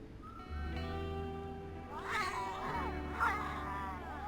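Angry cats caterwaul in the video game Rimworld, with long, wavering, yowling cries rising and falling over a steady low drone, loud and close with no talk.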